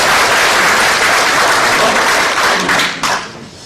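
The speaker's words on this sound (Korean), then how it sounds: "다시 한번 큰 박수 한번 해주시기 바랍니다." A church congregation applauds loudly in a dense, sustained burst of clapping that fills the room, then thins and fades toward the end.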